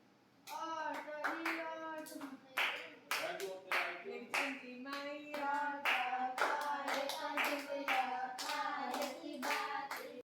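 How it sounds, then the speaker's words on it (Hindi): Children clap loudly and rhythmically during a Navratri aarti at home, close and lively, with voices singing along through the sequence of claps. "बच्चे तालियां बहुत तेज़ तेज़ बजा रहे थे"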